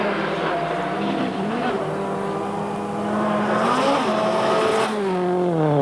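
Rally car in WRC Rally Finland 2000 roars past at speed, its engine note rising and falling through gear changes, loud and close throughout.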